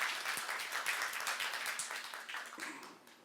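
Church congregation applause at a youth service, a moderate, fairly quiet spread of clapping hands heard from a distance, easing off toward the end.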